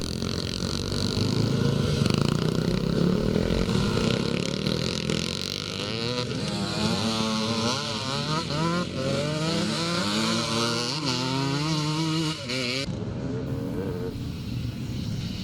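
Classic racing motorcycles at a Penrith track in a Scottish championship round, engines droning then rising and falling in pitch as bikes approach and pass, loud and continuous with no voices.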